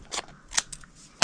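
Scissors snip through decorative craft paper while a snowman treat box is assembled: three short, crisp cuts spaced across a quiet moment, the last one loudest and closest.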